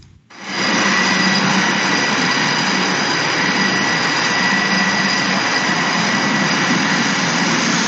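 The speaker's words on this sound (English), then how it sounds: "coming in, landing. It is the Hawkeye. It's an early warning aircraft." E-2 Hawkeye early warning aircraft coming in to land on a carrier, a loud, steady engine roar that swells in within the first second and then holds evenly throughout.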